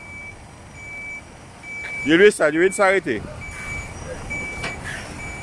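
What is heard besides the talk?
truck reversing with reversing beeps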